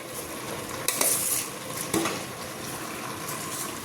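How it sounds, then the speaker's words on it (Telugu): Soaked rice being stirred into vegetables in a cooking pot, with a soft wet sizzle under a ladle scraping and stirring, and two sharper scrapes against the metal. "నానబెట్టి ఇప్పుడు రైస్ వేసుకొని కలుపుకోవాలండి"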